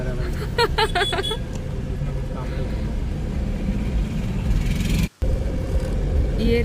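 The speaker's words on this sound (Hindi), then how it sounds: "हाँ, बहुत ही ज्यादा ट्रैफिक है।" Heavy road traffic of returning vehicles on a route near Dwarka, a dense, continuous low rumble of engines and passing cars heard from inside a moving caravan, with some honking early on and people talking over it.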